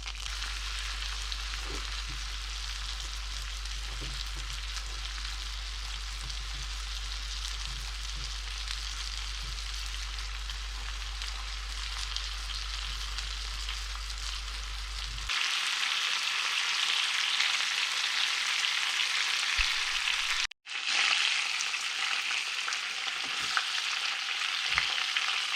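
Hare pieces sizzle steadily in a covered roasting pan for hare in sour cream, a loud, continuous close frying hiss that brightens midway and cuts out for a split second near the end, with no voices.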